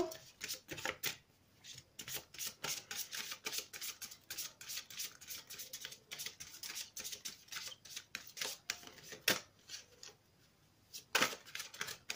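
Oracle cards shuffled by hand close up, a rapid run of soft papery riffles and slaps in uneven bursts with brief pauses between.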